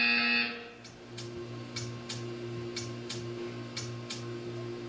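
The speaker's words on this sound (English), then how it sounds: "You will hear a buzzer." A buzzer in the Portal 2 video game sounds as a short loud tone, then a steady hum continues under a run of soft, evenly spaced ticks.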